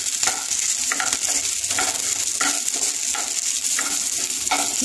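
Garlic and green chili frying in a pan while being stirred, a continuous close sizzle with repeated scraping strokes of the spoon throughout.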